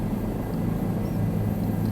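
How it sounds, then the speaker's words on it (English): A helicopter flies in the video game Microsoft Flight Simulator 2020, a steady loud engine drone with low rotor throb, continuous and unchanging throughout. "So that is where I want to land my helicopter."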